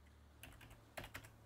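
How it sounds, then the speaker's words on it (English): Typing on a computer keyboard: a quick run of soft, close keystrokes with a couple of sharper clacks near the end, alone over a faint hum. "I go to type something in"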